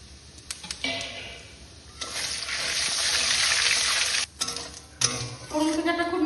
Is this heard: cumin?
yes